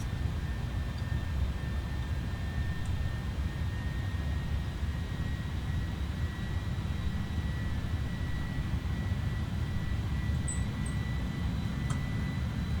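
Steady jet airliner engine drone during a landing approach to Charles de Gaulle in Microsoft Flight Simulator 2024, a constant low rumble and hiss holding evenly throughout with no talking.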